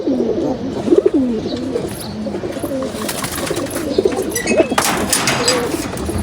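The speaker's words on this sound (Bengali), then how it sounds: "এখানে কিছু কবুতর আছে আমার ডিস্টার্ব করে, 2-3টা মাদি আছে আর 2টা নর আছে" Domestic pigeons in a loft, several birds cooing in repeated low rolling phrases close by, with light rustling and faint background noise throughout.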